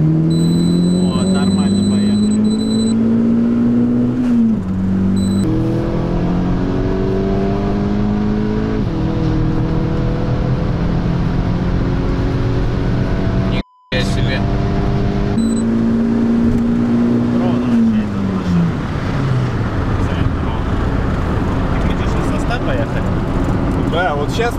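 Loud in-car engine roar as a Skoda Octavia A7 1.8T accelerates in a race against an Audi, the engine note climbing steadily through gear changes while people talk over it.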